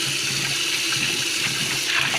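Harvested sweet potato leaves rinsed under running tap water, a continuous splashing flow with faint gurgles, close and steady with no voices.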